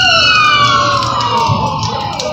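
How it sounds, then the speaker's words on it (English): An ambulance siren wails loud and close, its tones sweeping slowly downward over a continuous background roar during a rainstorm. "I can hear the ambulance."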